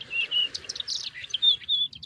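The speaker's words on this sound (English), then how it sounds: "All you hear are the birds and the wind." Small birds chirp and tweet on a remote, quiet island, bright repeated calls at moderate distance over a faint low wind rumble, with no other sounds.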